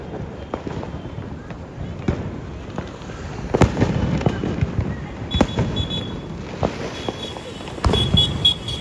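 Sharp pops and bangs of Diwali firecrackers go off irregularly, some close and loud, over a constant outdoor rumble with a few faint voices.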